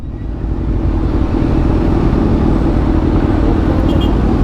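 Steady, loud road traffic in Dagupan, Pangasinan: a continuous low rumble of passing cars and motorbikes close by, with no talk over it.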